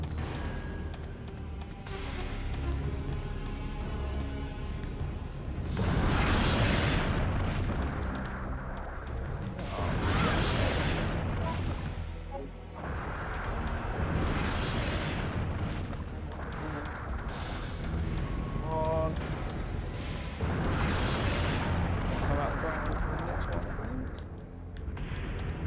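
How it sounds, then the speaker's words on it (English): Grenade blasts in the Resident Evil 3 Nemesis fight on hard mode: four or five loud, booming bursts land a few seconds apart, each swelling and fading over a dense, continuous bed of game noise and music. "Grenades."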